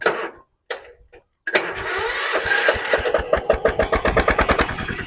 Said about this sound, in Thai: ก็สตาร์ทกุญแจนะครับ